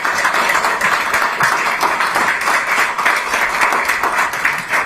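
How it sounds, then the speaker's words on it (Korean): Applause from the crowd at a political party founding ceremony, loud and near, with dense clapping pulsing in uneven bursts. "손박수 부탁드립니다."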